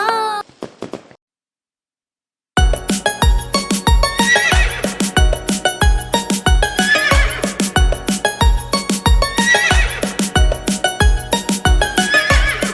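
A horse whinnies loudly and alone at first, then after a short silence a steady, rhythmic clip-clop of hooves runs under a bouncy children's rhyme backing track, loud and close throughout.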